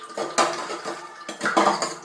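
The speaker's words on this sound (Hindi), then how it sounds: "तो गाइस अब धोने हैं बर्तन और ये सिंक है भरा हुआ पूरा, तो चलिए धोती हूँ बर्तन।" Dishes, pots and utensils clatter and clink as they are washed in a full kitchen sink, with several loud bursts of clanking metal and ceramic close by and no voices.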